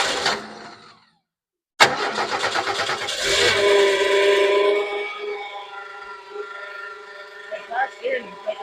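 A 1977 Ford F150 engine cranks and catches after a brief silence, then settles into a steady idle with a droning mid-range hum that fades slightly; a few faint knocks and voices appear near the end.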